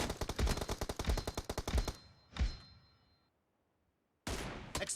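Video game gunfire from M24 and M416 rifles: a rapid automatic burst of evenly spaced loud shots, a single heavy report, a brief silence, then another fast burst, close and without talk.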